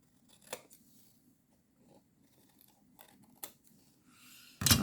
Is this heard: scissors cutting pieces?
yes